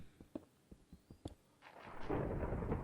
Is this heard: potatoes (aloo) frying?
no